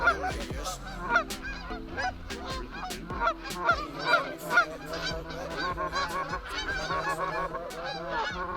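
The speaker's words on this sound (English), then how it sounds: "We got birds out there." Geese honk repeatedly during an early-season goose hunt in Wisconsin, a busy flock of overlapping calls, some loud and near, others fainter, with no talk.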